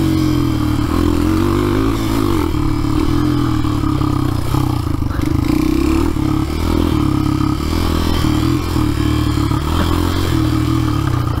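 An old XR dirt bike engine races along a trail, a loud, close, continuous motor drone with shifting revs and clattering over rough ground.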